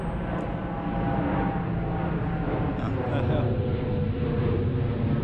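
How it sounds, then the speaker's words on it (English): An airplane flies overhead near an airport, a steady broad roar that stays close and loud throughout. "gonna wait for the airplane to go by."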